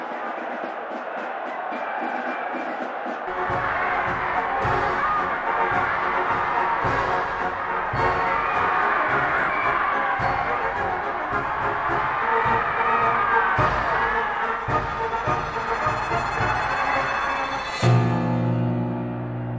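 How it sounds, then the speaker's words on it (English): A large crowd cheers and roars continuously at a triumphant procession, dense and loud throughout, ending in a different, lower sound near the end. "Everyone cheering and throwing flowers."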